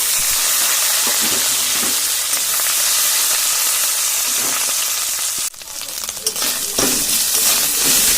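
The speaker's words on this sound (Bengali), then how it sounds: "ভালো করে আদা রসুনটাকেও ভেজে নিয়েছি।" Ginger and garlic fry in hot oil in a pan for a fish curry, making a loud, steady sizzle with bursts of hissing and occasional scrapes of stirring.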